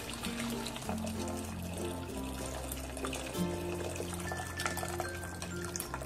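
Cooking water poured off boiled lentils from a pot held shut with a plate, a steady splashing, trickling flow lasting several seconds, with kitchen background music underneath.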